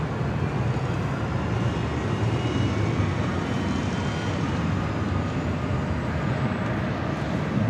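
Airbus A380 jet at LAX, a loud, continuous broadband roar of jet engines holding steady throughout, nearby and without pause.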